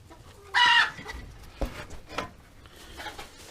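Chickens cluck nearby, with one loud, sharp squawk early on followed by softer scattered clucks and rustling.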